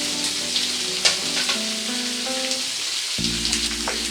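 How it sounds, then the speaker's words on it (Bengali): Potato and papaya fry together in a pan for a lightly spiced vegetarian dish, giving a steady sizzle with occasional stirring clicks, under a soft background hum. "এবারে আলু আর পেঁপেটাকে খুব ভালো করে একসাথে করে ভেজে নেব"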